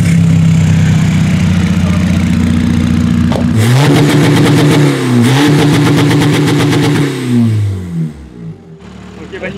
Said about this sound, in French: démarrer du coup la voiture